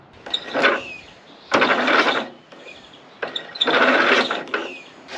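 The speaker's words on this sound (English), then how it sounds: "So the starter doesn't seem to have enough beans to start it" The electric starter of an old ride-on mower, left outside in the weather for years, cranks in four short, close bursts separated by brief pauses, a labored mechanical grinding that never catches.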